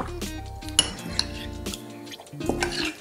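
Seasoned fish pieces and prawns tossed and stirred in a bowl, with close clinks and scrapes of a utensil against the bowl and soft wet squelches, no talk.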